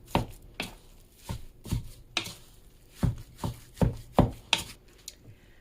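A spoon works through ground meat being mixed for Swedish meatballs, giving a series of close, soft, wet thumps and scrapes at an uneven rhythm, with no speech.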